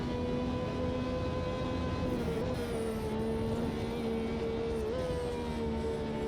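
Ferrari F50 GT race car engine in Automobilista 2, a steady high-revving drone holding near full throttle with small pitch dips at gear changes, loud and continuous throughout with no talk.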